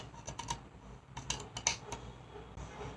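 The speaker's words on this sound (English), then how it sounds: "यहाँ थोड़ा सा excessive paper है which I can cut it with my scissors only." Scissors trimming excess decoupage paper from a Ganesha wall art base, giving a scattering of crisp, close snips and clicks at an uneven pace over quiet background, with no talk.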